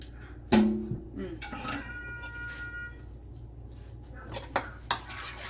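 Pork side dish with sauce being stirred in a pan, with a sharp clank of utensil on cookware followed by scattered scraping and tapping, a couple of clicks near the end and a cat meowing faintly in between.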